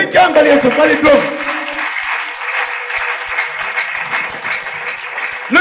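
A church congregation at a Friday night prayer service bursts into applause and cheering, loud dense clapping that swells and continues steadily with crowd voices mixed in.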